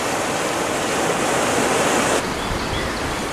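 Rushing water from a flooded, deep creek roars as steady, loud broadband noise close by throughout, with a slight drop in intensity near the end and no voices.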